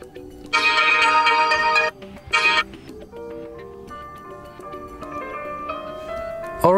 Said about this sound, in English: select your new alarm sound from the list